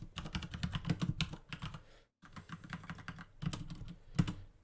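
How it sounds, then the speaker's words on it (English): A loud mechanical keyboard clatters in rapid, uneven bursts of close keystrokes, with a brief pause in the middle before the typing resumes. "you're going to hear my mechanical keyboard because it's super loud"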